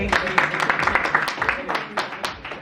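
Applause from an audience at a networking event for women, a steady crowd clapping at close range with dense, overlapping claps throughout.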